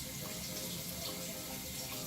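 Tap water runs steadily into a sink for face-mask washing, a continuous, even hiss of flowing water close by with no talking.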